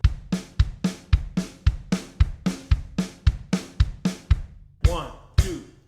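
Drum kit playing a disco pattern with the kick landing on every beat and hi-hat strokes in between, an even driving groove that ends with a couple of ringing cymbal crashes, close and without speech.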